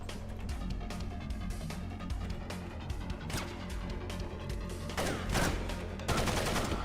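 Rapid gunfire in Splinter Cell video game, shots punching through a surface in quick bursts of sharp cracks with impacts, loud and close, with no voices.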